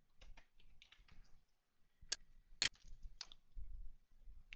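A URL typed on a computer keyboard: quiet, scattered key clicks in short irregular bursts, close by in an otherwise quiet room.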